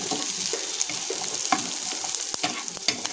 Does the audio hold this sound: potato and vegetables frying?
yes